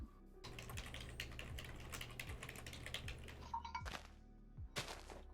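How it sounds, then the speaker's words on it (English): Rapid, uneven keystrokes on a computer keyboard during a Minecraft vanilla multiplayer session, dense clattering taps near the mic, with a brief pause before a few final scattered key hits. "Typing."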